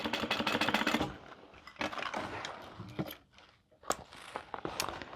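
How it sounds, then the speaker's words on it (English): A sewing machine back stitches over a tab and zipper on a bag in short rapid bursts of needle stitching, pausing and restarting, close by and fairly quiet. "And then I'm going to back stitch over that tab and zipper."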